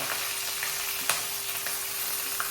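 Steady crackling sizzle of ginger, green chili, garlic and onion frying in hot oil, with a couple of brief clinks from the pan.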